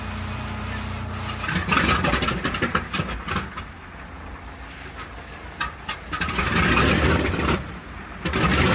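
Piston engines of a B-29 Superfortress bomber running on the ground, a rough loud roar that swells and surges in bursts with gusty broadband noise, falling back between runs.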